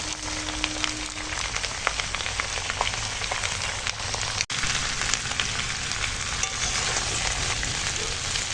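Beetroot, potato, spinach stems, green peas and cabbage crackle in a hot pan, a steady close sizzle peppered with tiny pops like rain on a surface.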